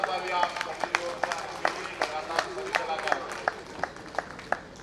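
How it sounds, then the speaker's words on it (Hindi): Audience clapping at a Ramlila closing ceremony in Dwarahat, a loose run of distinct hand claps at moderate distance, fairly sparse and uneven over about five seconds. "जोरदार तालियों के साथ एक बार।"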